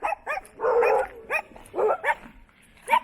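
A big dog at a campsite in Pine Hill State Forest, New York, gives a close, loud run of sharp barks and yips, with several quick bursts and a couple of longer, throatier barks spread over about three seconds.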